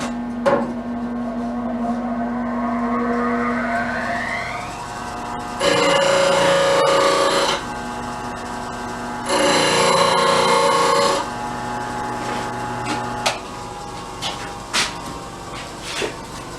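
A woodturning chisel is sharpened on a spinning grinder, with two loud bursts of grinding lasting a couple of seconds each, separated by the machine's steady whirring hum and a few sharp taps.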